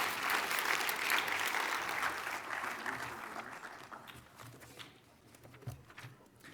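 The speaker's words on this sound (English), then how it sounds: "please give our panelists another round of applause" Audience applause for panelists at the closing session of the 2018 Mobility 21 transportation summit, a dense sustained clapping from a large crowd that gradually thins and fades toward the end.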